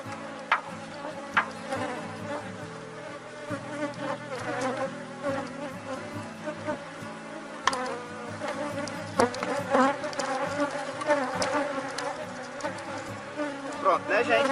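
A honeybee swarm hums steadily around a wooden hive box outdoors, its dense, continuous buzz rising and falling as individual bees pass close, with a few faint knocks against the box.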